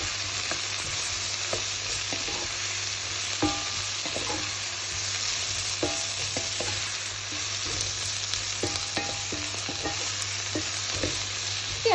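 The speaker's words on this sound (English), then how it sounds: "I'm just going to continue frying this a little bit more" Onions for a one pot chilli sizzle steadily in a pot, with a constant frying hiss broken by scattered scraping and knocking of a spoon as they are stirred, close and moderately quiet with no talking.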